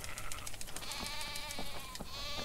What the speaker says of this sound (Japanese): 一回もう羊を殺しちゃいます